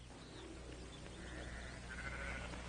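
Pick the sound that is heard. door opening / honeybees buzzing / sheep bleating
sheep bleating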